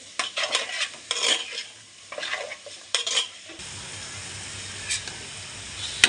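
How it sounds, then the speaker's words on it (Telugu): Chicken pieces frying in a pan for a chicken tamarind curry, stirred with a utensil that scrapes and clinks against the metal in bursts, giving way to a steady close sizzle with no talking. "మంచిగా వేగేదాకా మనం అయితే వేపుకోవాలి"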